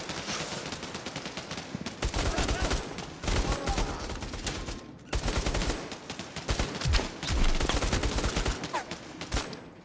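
Rapid gunfire from a shooter video game, sustained bursts of automatic fire in close succession with brief pauses, loud and continuous throughout.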